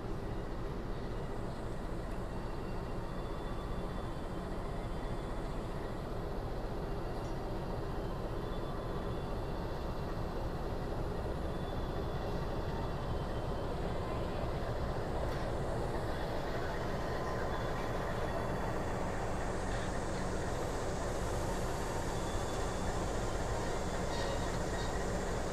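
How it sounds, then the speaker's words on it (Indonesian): A steady, low rumbling diesel locomotive engine drone, idling at a station, continues unbroken throughout, even and fairly loud, with no voices. "Ini lokomotif Harina Pagi"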